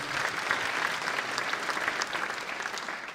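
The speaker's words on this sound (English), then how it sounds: "One more round of applause." An audience at the opening ceremony of an international gas balloon race applauds, a steady even wash of many hands clapping at moderate distance, with no voices over it.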